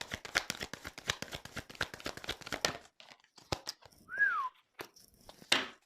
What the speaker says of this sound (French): C'est rare que je siffle.